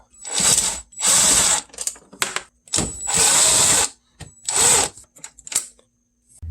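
A power tool backs out 8mm bolts where the bumper meets the fender on a BMW E90, running in four loud, close, whirring bursts of about a second each, with short ratcheting clicks and pauses between them.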